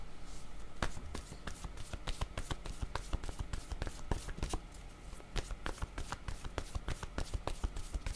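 Tarot cards shuffled and handled, a rapid series of close, sharp card slaps and riffles running steadily throughout, fairly quiet.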